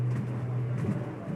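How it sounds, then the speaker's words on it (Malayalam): A pigeon coos softly, its low murmuring calls repeating over a steady background hum. "ഇതാണ് ആ പ്രാവ്."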